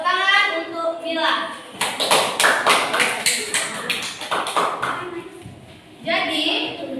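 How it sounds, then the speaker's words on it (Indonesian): A classroom of students claps for a fellow student, a short burst of rapid, fairly close hand claps lasting a few seconds between stretches of a teacher talking. "Tepuk tangan untuk Mila."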